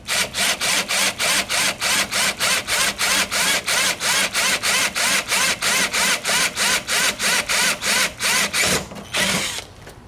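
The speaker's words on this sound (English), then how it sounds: "I'm gonna drill the first hole right in the corner" A power drill buzzes in rapid, evenly spaced bursts, drilling holes to fit a widebody kit on a BMW E36 drift car, close and loud, pausing briefly near the end before a final burst.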